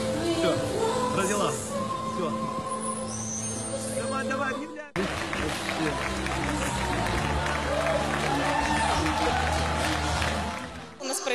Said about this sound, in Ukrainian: Новонародженого та його маму глядачі вітали оплесками.